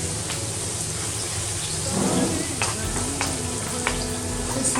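Spring onion frying in hot oil while being mixed, a close, steady sizzle with crackling bursts and scraping stir sounds, no voices over it.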